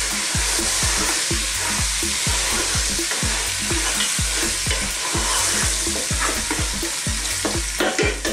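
Turmeric and fennel seeds frying in a pan while being stirred, a steady loud sizzle with repeated rhythmic scraping strokes of the spoon throughout.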